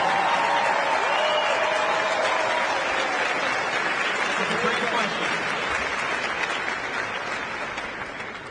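Audience at a voter town hall with a candidate applauding a 14-year-old, steady clapping that slowly tapers off, with a voice speaking briefly over it.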